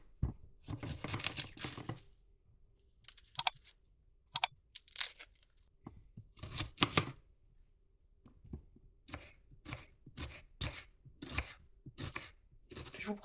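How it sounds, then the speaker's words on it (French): An onion sliced with a knife on a cutting board for a bolognese sauce, heard as crisp, quiet chopping strokes in quick bursts and scattered single cuts, close up with no talking. "je vais prendre un oignon que je vais émincer"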